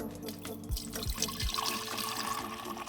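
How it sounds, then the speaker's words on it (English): Warm sweetened brewed tea for kombucha poured into a glass jar, a soft trickling, splashing stream with a few light clinks early on, fairly quiet and steady throughout. "carefully pour your sweetened brewed tea into the glass jar."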